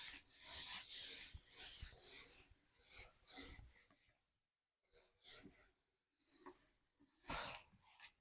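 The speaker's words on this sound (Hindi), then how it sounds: "मैं थोड़ा सा रब कर रहा हूँ।" A board being erased by hand in a lecture room: several quick, scratchy rubbing strokes in bursts, fairly close, with a pause in the middle and more rubbing after.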